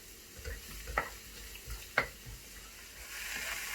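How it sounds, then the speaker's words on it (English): Onions fry in a pan with a soft, steady sizzle, close and faint, broken by a few brief scrapes and taps as they are stirred, with no talking. "We will fry onions till it will become golden."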